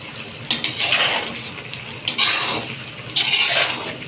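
Goat meat sautéing in a pan with chana dal, black pepper, cinnamon and cardamom powder: a sizzling, watery hiss that swells in three short bursts, as if the pan is stirred, with no talk.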